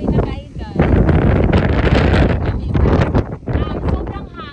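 Strong wind buffeting the microphone on the summit of Mt. Balagbag, loud roaring gusts that rise and fall, with voices talking faintly in between.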